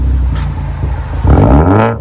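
A 2014 Ford Focus ST with a Flowmaster Flow FX exhaust revs loudly and close by. A deep steady idle swells into a rising rev and then falls back.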